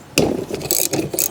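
A ratchet loosens a seat bolt inside a Honda CR-V. Quick clicking scrapes come in a few close, loud bursts over about a second.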